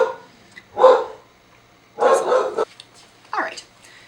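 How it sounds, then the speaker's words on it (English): Dogs bark in three separate bursts with quiet gaps between them, close by and fairly loud, the last bark sharper and higher. "barking at another dog."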